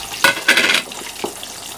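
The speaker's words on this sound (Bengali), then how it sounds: "ঝোল ফুটে গেছে, দিয়ে দিলাম মাছগুলো" Pieces of katla fish go into a thin, boiling curry: two short splashy, sizzling bursts close by, then quieter simmering with a faint clink near the end.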